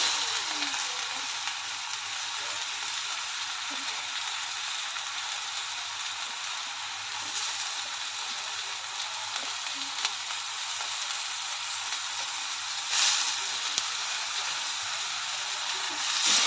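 Grated radish with turmeric sautés in a pan with a steady, soft sizzle and occasional stirring scrapes, continuous and even throughout, with no voices.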